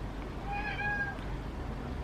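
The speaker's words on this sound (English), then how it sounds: "Oh, that's my cat" A pet cat gives a single faint drawn-out meow indoors, quiet against low background noise.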